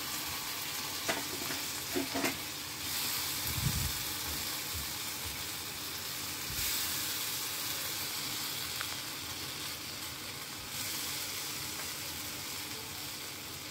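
Coriander leaf gravy for a brinjal fry cooks in a pan on a gas stove, a steady sizzling hiss with occasional stirring scrapes and low knocks, constant and close throughout.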